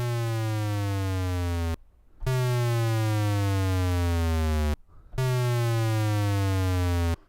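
Chiptune synth notes from the Magical8bitplug2 plugin, each starting an octave high and gliding smoothly down to the played pitch. Three long sustained notes are separated by short gaps of silence, with no voices.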